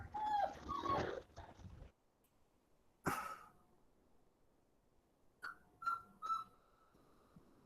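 A female dog shut inside a bedroom gives a few high whimpers and whines, then goes quiet, then makes several short squeaky cries near the end, fairly faint against a quiet room.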